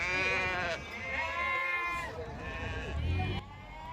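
Sheep bleat repeatedly, wavering calls overlapping one another nearby, over a busy background murmur at a weekly sheep market in Sindhanur, Karnataka.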